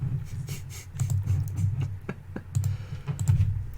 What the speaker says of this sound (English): Oh, here we go, typing it up.